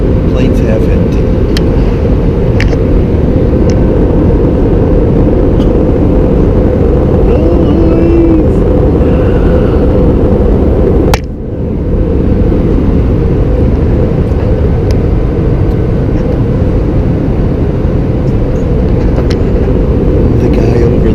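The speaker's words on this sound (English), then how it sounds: "it was the flight, the United UA 522 at 7:40 from Newark to West Palm. Plane's half empty." Inside the cabin of a United airliner flying out of Newark, a loud, constant broadband engine and air roar fills the whole stretch, with one brief dip near the middle.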